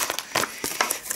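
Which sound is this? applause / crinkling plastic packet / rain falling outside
crinkling plastic packet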